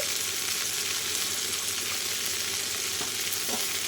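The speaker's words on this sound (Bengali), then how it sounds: "লবণ হলুদ কাঁচা লঙ্কাটা দেওয়ার পরে আমি কিন্তু এখানে আবারও খানিকক্ষণ ভেজে নেবো" Vegetables frying with salt, turmeric and green chilli, a dense, continuous sizzle close up, with faint stirring underneath and no voices.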